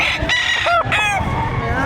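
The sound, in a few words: rooster crowing at livestock auction market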